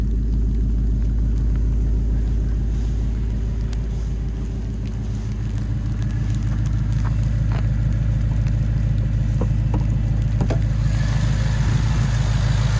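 A Ford Mustang GT Premium's 5-liter naturally aspirated V8 idles nearby with a deep, rhythmic rumbling throb that holds steady throughout, with a few faint clicks over it and no voices.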